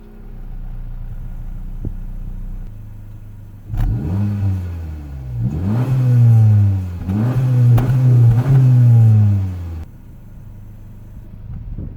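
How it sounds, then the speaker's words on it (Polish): Honda Civic 1.5 VTEC Turbo, tenth generation, revving from outside the car: a quiet idle, then several rising revs in quick succession that fall back each time, fairly close and moderately loud, before settling to idle again. "Pomimo obecności dwóch sporych róż wydechowych, Civic nie brzmi jakoś fenomenalnie na zewnątrz."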